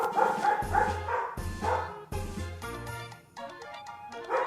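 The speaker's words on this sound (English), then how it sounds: "That's my dog." Several loud, close dog barks come in quick, irregular bursts with short pauses between them, and no talking.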